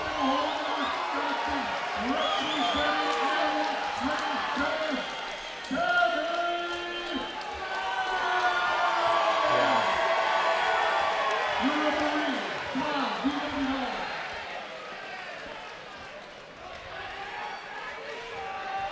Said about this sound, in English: Both of these guys have huge fan sections.